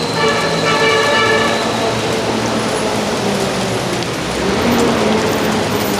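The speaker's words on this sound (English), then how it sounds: "look at the water dropping under the bridge." Steady, dense patter of water dripping and running under a bridge in a park, sounding like heavy rain, close and continuous throughout with no voices.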